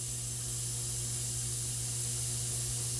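An airbrush sprays Medea airbrush cleaner, giving a steady, close, continuous hiss with a low hum underneath that runs without a break for the whole stretch, with no talk.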